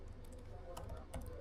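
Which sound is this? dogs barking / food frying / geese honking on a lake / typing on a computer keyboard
typing on a computer keyboard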